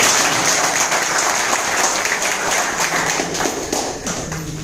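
Loud, dense applause from a large audience at a business seminar, sustained thunderous clapping close and full throughout without pause.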